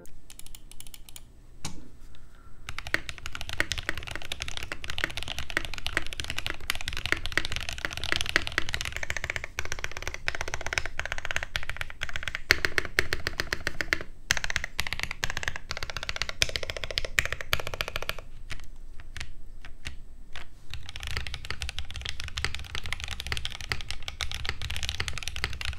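Continuous keyboard typing on a Z60 Evolve budget mechanical board, a steady stream of close, even key clacks running throughout with brief lighter pauses.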